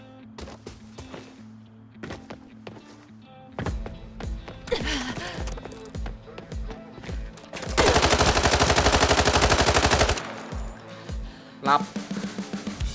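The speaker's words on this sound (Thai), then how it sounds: "ปืนอะไรวะนะ" Gunfire in the shooter game Arena Breakout: sharp single shots spaced out at first, then a sustained burst of rapid automatic fire lasting a couple of seconds, followed by more quick shots, loud and close.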